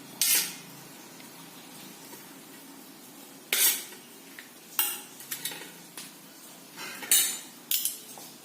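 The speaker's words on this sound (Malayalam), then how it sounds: "തേങ്ങയിൽ കുറച്ച് അരിപ്പൊടിയിലേക്ക് ഇളക്കുന്നു" Grated coconut being stirred into damp rice flour for puttu, with several sharp clinks of a utensil against a bowl separated by quiet gaps.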